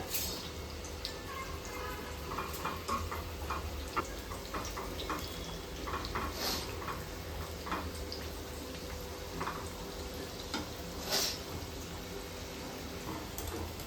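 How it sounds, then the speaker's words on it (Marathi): Onions deep-frying on high heat for paneer biryani, a dense steady bubbling hiss of hot oil with occasional sharper crackles, close and continuous. "डीप फ्राय करून घेऊया म्हणजे कुरकुरीत असा करून घेऊया"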